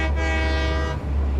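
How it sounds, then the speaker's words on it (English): A train in the game Satisfactory sounds its horn, a loud, sustained harmonic blast over a low rumbling engine, breaking off briefly and resuming. "I just hear the honk"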